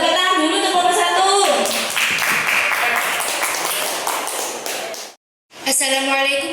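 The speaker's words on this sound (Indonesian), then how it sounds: "Tepuk tangan dulu untuk kelompok 1." Students clapping in a classroom for a group about to present, a brief loud round of applause mixed with voices before it drops off and talking resumes.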